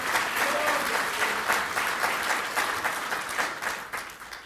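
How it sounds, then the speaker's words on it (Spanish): A church congregation applauds to honour God during a Spanish-language service, with sustained, rhythmic clapping of moderate loudness that slowly tapers. "Dele ese aplauso al Señor, a nuestro Dios todopoderoso."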